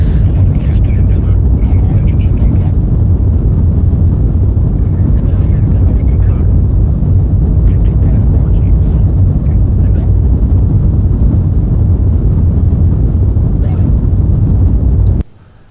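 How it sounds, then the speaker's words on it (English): Space shuttle thrusters in the Orbiter 2010 simulator game, a loud, dense, unbroken roar heavy in the low end that runs steadily for about fifteen seconds before stopping abruptly. "Going to use some of my thrusters, which is usually not what they do during landing."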